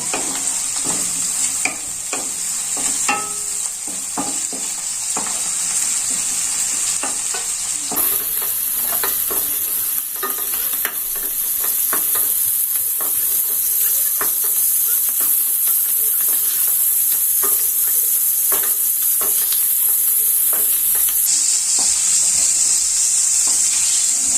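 Steady, loud sizzling of prawns frying in hot oil, with intermittent scraping and clinks of a utensil stirring in the pan throughout.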